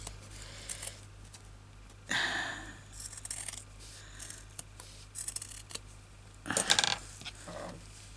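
Scissors snip through fabric close by during slow stitching work, with a few scattered crisp cuts and two clearer bursts of snipping, the last one busiest, over a quiet background hum.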